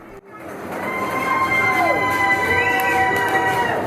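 Millennium Force roller coaster at Cedar Point in motion, a loud steady rumble of the train on the track with rising and falling wheel whine, continuous and close.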